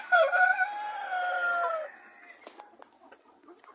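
Chickens close by, a drawn-out call at first, then scattered clucks and short clicks.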